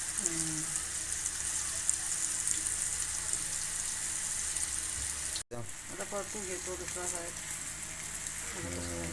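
Pieces of halva fish fry in hot oil with a steady, loud sizzle throughout, briefly cut by a short dropout; a voice murmurs faintly in the background.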